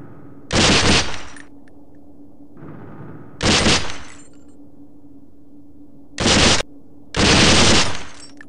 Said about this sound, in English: The M4 fires in semi and full auto modes, while the submachine gun has semi-auto and a 3-round burst.